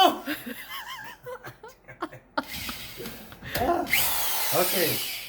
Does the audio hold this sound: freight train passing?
no